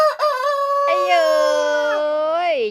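A rooster on a rural Thai farm kept with laying hens lets out one long, loud, close cock-a-doodle-doo, rising and holding before trailing off at the end.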